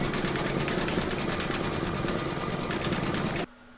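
A sewing machine stitches the brown outline round of a sunflower design on a fabric coaster in a hoop, a steady dense whir running continuously at close range before stopping abruptly near the end.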